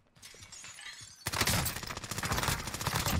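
Rapid automatic fire from an OTs submachine gun in Call of Duty Warzone on Rebirth Island erupts suddenly after a quieter stretch, becoming a loud, continuous rattling burst with dense shot crackle.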